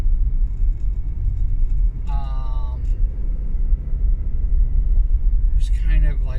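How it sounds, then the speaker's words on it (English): Steady low rumble of road noise inside a moving car, with a voice speaking briefly over it partway through and again near the end. "The car noise."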